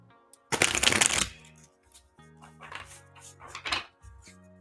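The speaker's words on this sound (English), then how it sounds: "So I'm gonna get the cards all warmed up." Tarot cards from an oracle deck are shuffled close up: a loud riffle burst followed by several softer flicks and card-tapping sounds in an uneven rhythm.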